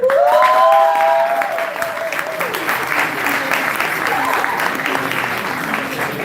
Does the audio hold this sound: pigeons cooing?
no